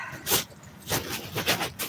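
A dog giving a few short yips and whimpers, three or four brief high bursts close to the microphone, with no speech.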